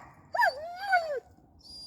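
A dog whimpers a greeting nearby in two rising and falling whiny cries, followed by a brief higher squeak, all over quiet outdoor background.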